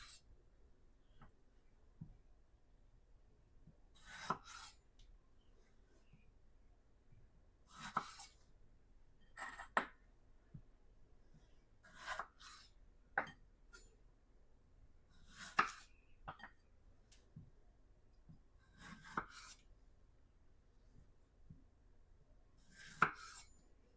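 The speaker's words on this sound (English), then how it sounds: "And then the tomatoes get cut in half." Knife halving whole tomatoes on a cutting board: a series of sharp, separate thunks and clicks spaced a few seconds apart, close and fairly faint against a quiet kitchen background.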